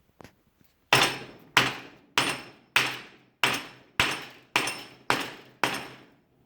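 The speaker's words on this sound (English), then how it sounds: "then I take this huge hammer and I hit it" Nine heavy hammer blows, evenly spaced and loud, drive a bearing into a vintage sled wheel, each metallic strike ringing briefly before the next.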